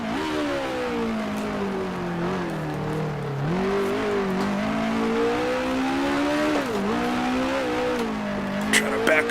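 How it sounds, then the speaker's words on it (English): A 1960s Tasman Series race car in the Grand Prix Legends racing game, its engine howling steadily near and loud as the pitch rises and dips through gear changes, with tires squealing near the end under understeer. "Trying to figure out where I can push the car even a bit more."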